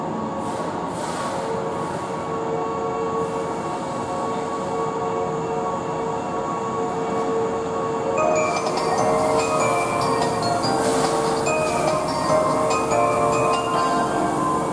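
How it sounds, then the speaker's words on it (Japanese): A Keihan 8000 series limited express train sits at the Sanjo Station platform with a loud continuous rumble of motors and ventilation, growing busier with squeaks and higher rail noise partway through. "3番線の電車は特急淀屋橋行きです。"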